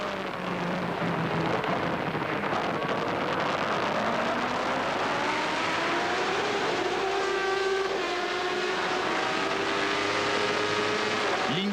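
Ayrton Senna's Formula 1 car at Donington in 1993, heard onboard: a loud, continuous high engine scream that rises and falls through gear changes, with the pitch sweeping upward repeatedly over a steady roar.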